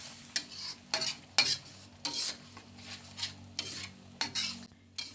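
Rica-rica, a wet saucy non-spicy version, frying in a wok over a simple wood-fired kitchen, stirred with a utensil in repeated scraping strokes about every half second, with a steady sizzle underneath.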